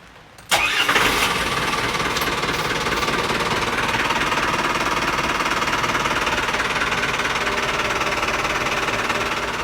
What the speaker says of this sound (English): I feel confident enough to fire the engine up and just let it tick over for a little bit